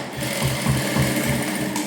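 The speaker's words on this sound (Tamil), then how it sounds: "இப்போது லைனிங்கை உள்ளே தள்ளி விட்டுட்டு கழுத்துக்கு ஒரு தையல் போட்டுக்கலாம்" A sewing machine runs in a steady rapid stitching rhythm as lining is sewn around a child's silk blouse neckline, close and loud with no talk.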